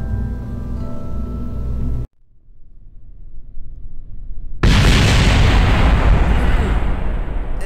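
A rocket launches in Kerbal Space Program: a loud rumble cuts to near silence, then a huge, sustained roaring blast of engine thrust fills the rest, loud and close, no talking.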